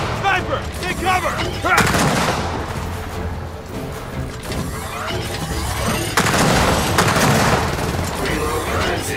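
Sniper fire and heavy combat in the video game Gears of War 4, loud repeated shots and blasts layered with dense battle noise and shouting voices throughout.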